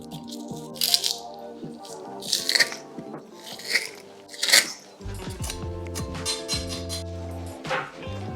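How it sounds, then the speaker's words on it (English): A hand garlic crusher presses garlic cloves while meatballs are being prepared, giving four brief, sharp crunching bursts spaced a second or so apart over steady background music. "Take your garlic crusher."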